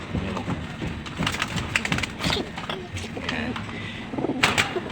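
A racing pigeon coos softly in a loft, low throaty coos mixed with wing flutters while someone talks over it nearby.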